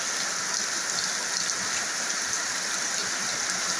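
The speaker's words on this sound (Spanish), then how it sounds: "Fuerte lluvia." Heavy rain from a strong storm pours steadily over a village in Cortés, Honduras, making a dense, even hiss that fills the whole clip at close range with no voices.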